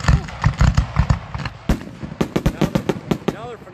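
Finale chains of fireworks go off at an outdoor charity fireworks show, a dense crackling string of sharp pops and bangs at mid distance, with people talking over the barrage.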